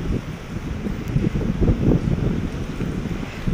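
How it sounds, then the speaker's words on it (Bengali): Strong wind gusting outdoors before rain, buffeting the microphone with a loud low roar that swells and eases over a few seconds, with no voices. "দেখো কত হাওয়া চলছে"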